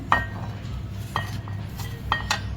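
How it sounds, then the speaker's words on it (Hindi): A utensil clinks against a bowl while flour and other batter ingredients for potato wedges are mixed, sounding as a few sharp taps about a second apart over a soft scraping stir, close and fairly quiet. "सारे इंग्रेडिएंट इस बोल में मैं मिक्स कर देती हूँ"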